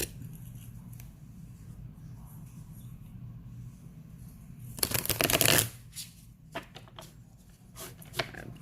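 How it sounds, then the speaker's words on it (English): A deck of tarot cards is riffled in one quick, crisp burst of flutters, with softer shuffling taps before and after over a low background hum. "That's the cards shuffling in the background."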